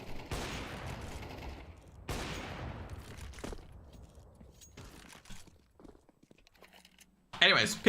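Bursts of pistol gunfire during a pistol round of a Counter-Strike match, several sharp cracks and short volleys spread across the clip, mixed with footsteps and clatter and a loud burst near the end.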